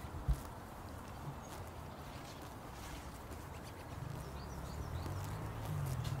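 A herd of horses moving about outdoors, with a steady low rumble of hooves and bodies shifting, one brief louder knock near the start and birds faintly in the background; no clear neighing stands out.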